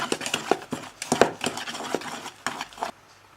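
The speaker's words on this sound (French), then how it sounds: "Voilà le beurre qui est mis sur la farine. Je veux mélanger jusqu'à liaison." Flour and cut butter are mixed into craquelin dough in a bowl, a run of quick irregular knocks and scrapes at close range that stops abruptly after about three seconds.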